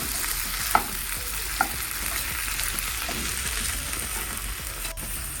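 Chopped garlic and tomatoes stirred in a frying pan for a stuffed eggplant filling, with a continuous close sizzle and a couple of sharp utensil taps against the pan.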